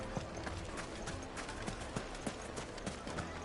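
Horse hooves clip-clopping in the video game Final Fantasy 16, a quick even trotting rhythm of hoofbeats, moderately close, over low background ambience.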